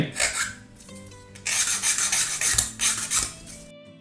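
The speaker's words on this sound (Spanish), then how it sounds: "también es bueno siempre limar un poquito la pieza" A wooden piece for an OcCre Flying Dutchman model ship is filed by hand, a close, loud run of rough rasping strokes in two bursts, with no talk.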